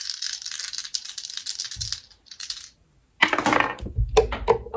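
Astrology dice rattle and clatter across a hard surface in a loud burst, pause, skitter briefly again, then tumble and knock as they scatter and settle.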